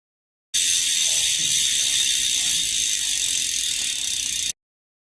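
Lighter Pro rim brake wheelset's bicycle freewheel hub ticking alone in a steady, rapid ratchet click that runs for about four seconds, then stops abruptly.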